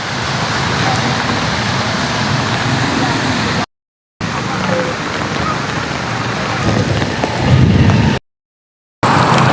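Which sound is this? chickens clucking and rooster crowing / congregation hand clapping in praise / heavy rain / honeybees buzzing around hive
heavy rain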